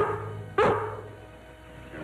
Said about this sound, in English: A mighty brave dog, Lassie.